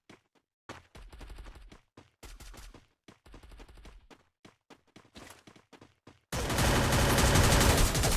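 Counter-Strike style video game gunfire comes in short rapid bursts of automatic shots separated by brief pauses, then gives way to a loud, dense, sustained roar of noise near the end.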